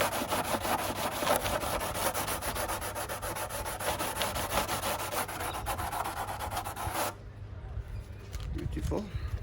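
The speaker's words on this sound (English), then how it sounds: "smooth it up as best I can. And try to get rid of some of those burrs there." Burrs are sanded off the cut edge of a plastic motorcycle or scooter windshield, giving steady close scraping and rubbing strokes for about seven seconds. The work then stops and a faint voice follows.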